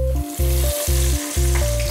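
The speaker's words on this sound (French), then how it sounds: "Il vous suffit de râper vos légumes, de garnir les moules et de les plonger dans la friture." Grated potato nests packed into moulds sizzle and crackle steadily as they deep-fry in hot oil, a dense continuous frying hiss with no voices.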